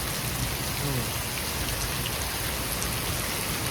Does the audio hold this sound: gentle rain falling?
yes